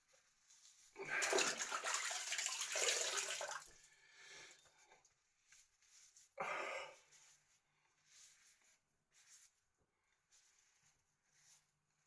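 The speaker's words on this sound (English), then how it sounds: "we're going to rinse that off with the flannel" Wet flannel rinsing soap from a face: a few seconds of sloshing, dripping water, then a shorter splash a little later, followed by faint scattered drips in a quiet room.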